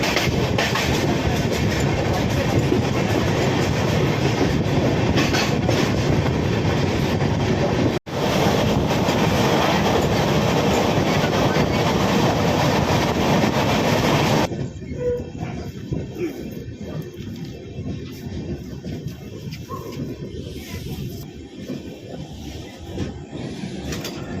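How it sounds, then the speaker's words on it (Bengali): The Uttar Banga Express pulls out of Sainthia station with a loud, steady rumble and rattle of rolling coaches. After a short break the sound drops to a quieter interior clatter with rhythmic clicking. "এই মুহূর্তে আমাদের ট্রেন ছাড়লো সাঁইথিয়া স্টেশন থেকে।"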